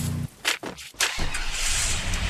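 A vehicle in the Free Fire video game drives past, its engine surging and dropping a few times before it settles into a steady loud drone.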